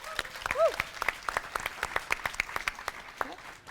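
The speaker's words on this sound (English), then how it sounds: "So come on, guys, give them applause." Applause from a startup community conference panel audience: scattered, fairly sparse clapping from a small crowd, with a brief vocal cheer near the start.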